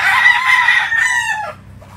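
A white general gamefowl rooster crows loudly and close, one full cock-a-doodle-doo that trails off, followed by faint farm background.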